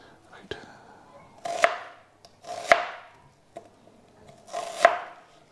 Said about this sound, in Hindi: अनियन को थोड़ा सा बड़ा बड़ा काटेंगे, because we are going to stir fry it